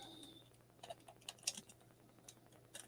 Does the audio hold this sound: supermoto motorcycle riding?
no